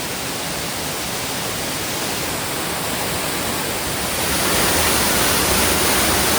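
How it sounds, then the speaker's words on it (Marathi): The Somtirth waterfall in Nivendi village, near Malgund and Ganpatipule, roars in a dense, continuous rush of falling water, loud and close, swelling slightly toward the end. "तर समोरच जो आहे धबधबा तो सोमतीर्थ धबधबा आहे"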